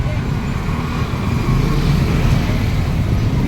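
Trucks and other road traffic on a dusty road in San Pedro, Laguna, a loud, continuous low rumble of passing heavy vehicles that swells slightly midway, with no clear speech.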